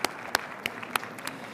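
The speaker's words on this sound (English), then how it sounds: "Let's give them a final round of applause" A smaller audience at a student oral presentation competition applauding the participants, scattered distinct claps at first, close and fairly quiet, with a faint murmur of voices.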